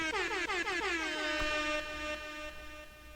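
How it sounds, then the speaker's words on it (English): Air horn sound effect blaring alone: a single long, loud, steady brassy blast that holds for a few seconds and then slowly fades. "It's 2023 and we're still milking this air horn sound like it was just yesterday."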